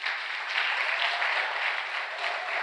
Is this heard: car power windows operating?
no